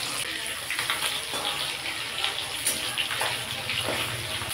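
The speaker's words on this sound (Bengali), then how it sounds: "কই মাছগুলো এই পিঠটা ভাজা হয়ে গেছে, এবার উল্টে দেবো।" Koi fish being turned over and frying in hot oil in a kadai, giving a dense, watery-sounding crackle and hiss broken by a few sharp clinks and bumps, with no speech.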